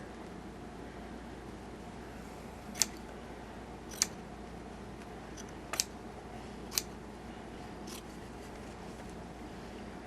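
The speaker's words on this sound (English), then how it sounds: "So I'm going to trim this little white off." Scissors snip appliqué fabric close to the stitching, with four or five distinct sharp clicks spaced a second or so apart over a steady low room hum.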